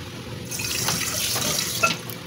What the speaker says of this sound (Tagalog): Huhugas ako ng plato.